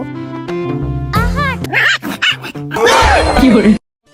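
A small dog yips and barks several times up close, mixed with whimpers and children's voices.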